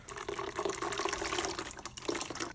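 Lye solution for cold process soap is poured into a container in a steady, continuous liquid stream, close and fairly loud, with no talking.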